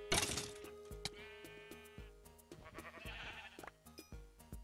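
Sheep in modded Minecraft bleating several times in a row, game-style bleats mixed with other in-game effects and background music, fairly quiet.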